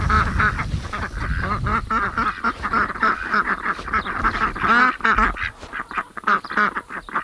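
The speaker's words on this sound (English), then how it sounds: "Eight ducks after losing one" A small farm flock of eight ducks quacks continuously up close, many overlapping calls in an irregular chatter.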